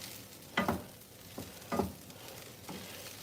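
Shrimp fried rice being stirred in a hot pan, with a quiet background sizzle and three distinct scraping pushes of the spatula spaced about a second apart, close by and alone.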